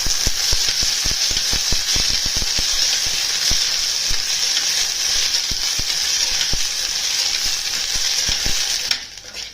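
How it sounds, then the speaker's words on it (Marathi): Pigeon peas roast in a little hot oil inside a pressure cooker, giving a loud, steady bright sizzle with many sharp pops and crackles throughout, heard alone, easing off at the very end. "तेल तापलं की याच्यामध्ये तुरीचे दाणे टाकून भाजून घ्यायचे आपल्याला."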